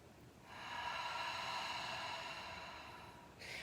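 A long, audible breath during a dynamic yoga flow, rising softly then holding as a steady airy rush for a few seconds before easing off, close and fairly quiet with no talking.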